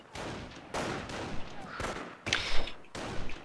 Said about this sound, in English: We have a lot of incoming fire.